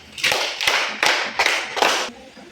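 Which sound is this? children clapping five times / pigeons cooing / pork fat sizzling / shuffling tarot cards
children clapping five times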